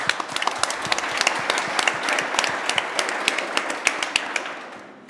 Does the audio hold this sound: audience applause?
yes